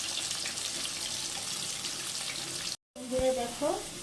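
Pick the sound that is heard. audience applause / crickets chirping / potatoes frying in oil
potatoes frying in oil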